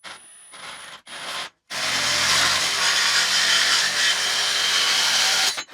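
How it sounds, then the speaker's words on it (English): Hacksaw cutting through metal EMT conduit, a loud, steady rasping run of back-and-forth strokes lasting several seconds, preceded by a couple of short scraping bursts. "we're done with the frickin' hacksaw for a hack job"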